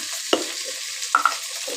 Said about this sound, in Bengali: শুকনো লঙ্কা ফোড়ন দিয়ে দিচ্ছি